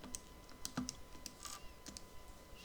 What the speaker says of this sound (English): So I'm going to type in the 15 divided by 51.